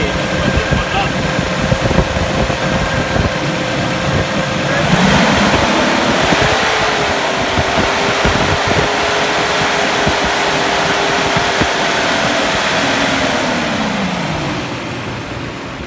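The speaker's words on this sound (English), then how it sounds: "fan is on all the time, and normally you get gas after a while the fan should disengage, but this one doesn't." Mercedes W126 V8 (420SEL/560SEL) idling cold with the engine fan constantly engaged, a loud steady whooshing roar with a tonal hum that shifts partway through, while someone talks over it.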